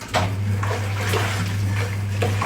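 Wringer washing machine with a roller mangle, its motor churning and sloshing water into foam; a steady low motor hum runs beneath continuous splashing and swishing water, close and moderately loud.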